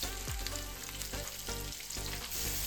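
Masala sizzling and frying in a hot pan while being stirred, a steady bright crackle with soft scraping strokes of the spoon, close and alone without talk.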